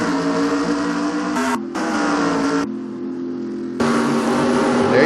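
Stock-car engines rev and drone together at the green-flag start of a 30-lap Pokemon NASCAR video game race at New Hampshire, a loud, steady, layered engine roar with brief dips before surging again.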